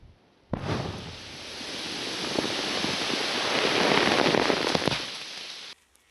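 Controlled detonation of WWII-era ammunition at a disposal range near Lviv: a sudden loud blast, then a sustained roaring, crackling rumble lasting about five seconds before cutting off, with no voices.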